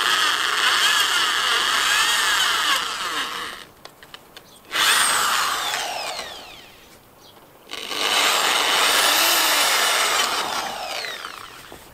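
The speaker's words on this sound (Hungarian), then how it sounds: "Itt is előfúrok, hogy ne repessze szét." A power drill whines loudly as it pre-drills wood for fence building, running in two long bursts separated by a short quiet pause.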